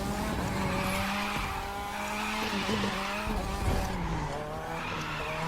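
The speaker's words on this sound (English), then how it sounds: "So let's go in there and slide around to take the drift." Tires squeal and skid steadily as a car drifts through a slide in The Crew 2 racing game, with the engine droning underneath; a continuous, loud screech with no talking.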